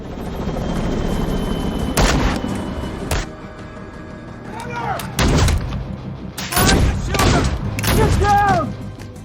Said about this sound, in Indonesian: di sana sudah ada tim FBI dan sempat terjadi aksi tembak-tembakan